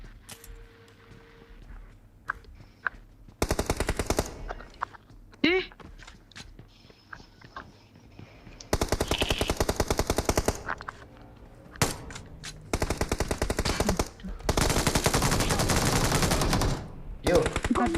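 Bursts of automatic gunfire crackle in PUBG Mobile, in long dense volleys and shorter sharp strings of shots, with quieter gaps between them. Players talk over the action.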